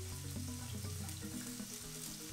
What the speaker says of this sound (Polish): Cebula i czosnek już dumnie skwierczą tutaj.